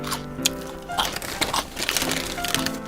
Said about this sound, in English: I'll be done crunching in a bit.